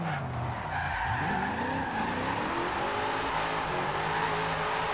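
Tires skid and squeal in the Forza Horizon 2 racing game as a car slides, with a sweeping whine and steady engine roar that stay loud and continuous throughout.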